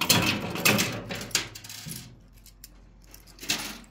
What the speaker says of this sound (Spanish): Sí, mire, se están acumulando todas las monedas.